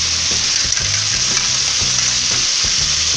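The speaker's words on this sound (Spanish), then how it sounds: "Seguimos friendo." Bacon fries and sizzles in a pan for a Peruvian lima bean dish, a steady close crackle with repeated scraping stirs of a utensil across the pan.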